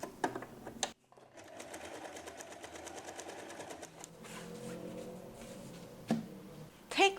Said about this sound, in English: take this to the sewing machine and secure the handles by sewing across them